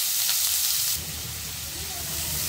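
One large chopped onion sizzles in a kadhai over a medium flame, in oil left from frying potatoes. The sizzle is steady, loud and close, and it turns brighter and hissier after the first second.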